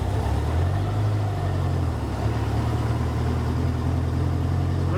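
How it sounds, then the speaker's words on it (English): A 1974 Porsche 912 engine running just off idle with a hesitation, a steady, loud, low rumbling drone with a slight wavering dip partway through, heard alone. "Just off idle, it's got a lot of hesitation"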